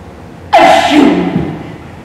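A single loud, close sneeze from one person: a sharp explosive burst that trails off into a breathy tail.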